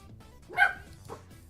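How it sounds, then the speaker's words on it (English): A dog indoors giving a single sharp bark followed by a softer second yip a half-second later, moderately close over a quiet room hum. "she's barking"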